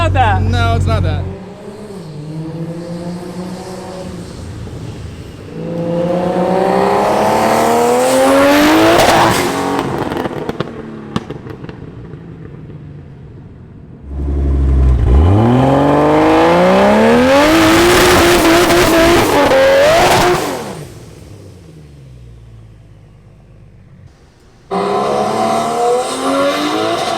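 Ford Barra-engined Mustang GT350 with 900 horsepower revving hard and roaring past in loud fly-bys, pitch rising and falling, with short quieter gaps between passes.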